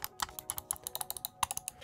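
Side buttons on an ambidextrous gaming mouse with a rubber grip clicked over and over, giving a quick, uneven run of about twenty crisp, close plastic clicks with nobody talking.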